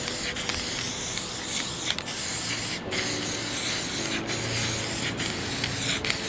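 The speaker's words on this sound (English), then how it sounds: "Just spraying lightly." A steady hiss of an aerosol spray can lightly spraying onto wood runs continuously at close range, broken by a few brief pauses and faint clicks.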